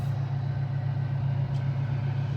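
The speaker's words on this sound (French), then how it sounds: "je pense que c'est la désalinisatrice de l'île." An island desalination plant's diesel engine running steadily, a continuous low droning hum with an even tone and no breaks, heard from a boat at anchor nearby, no voices.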